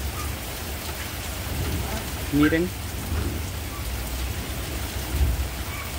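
Heavy rain pours steadily in the countryside, with a muffled roll of thunder in the background, while animals call briefly and someone speaks a word.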